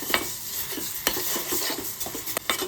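A coconut, jaggery and dry fruit filling with cardamom mixed in a pan over medium heat, with quick spatula scrapes and soft sizzling, close and continuous with no talk.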